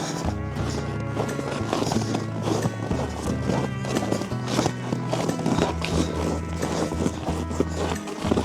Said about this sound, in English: Horses are getting turned out right now.